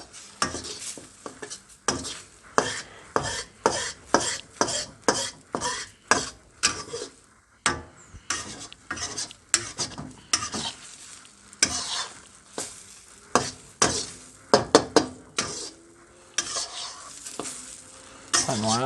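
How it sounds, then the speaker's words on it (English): Egg for fried rice is folded and pushed around a hot pan, giving loud repeated spatula scrapes and clatters every second or so over a continuous sizzle, close up. "you just want to sort of fold the egg over around and just let it cook everywhere"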